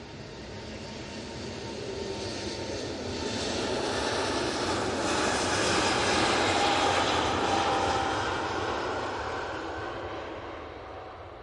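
An Aegean Airbus A320neo jet on its takeoff roll at Manchester Airport, engine roar building from moderate distance to a loud peak midway, then slowly fading, with a faint whine running through it.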